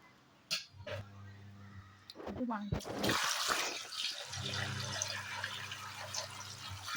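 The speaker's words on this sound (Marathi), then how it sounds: "आता आपण ह्याच्यामध्ये गरम पाणी ओतून घेऊया" Hot water is poured over clam-like shellfish in a pot, a splashing rush that starts after a few knocks and then settles into a steady watery wash, with a voice murmuring nearby.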